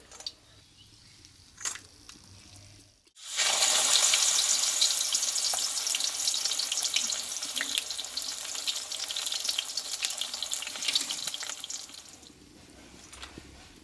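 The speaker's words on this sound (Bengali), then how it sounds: "বন্ধুরা দেখো কুমড়ো পাতার বড়াগুলো কিন্তু আমার ভাজা হয়ে গেল" Pumpkin leaf fritters frying in hot oil without gram flour, a dense, loud bubbling sizzle that starts abruptly after a quiet moment and continues steadily, easing off near the end.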